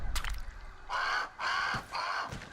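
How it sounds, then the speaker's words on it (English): A crow in the video game Grounded caws three times in a steady rhythm, each call loud and close, after a short low thump at the start. "Every time that crow lands on something, you hear this boom"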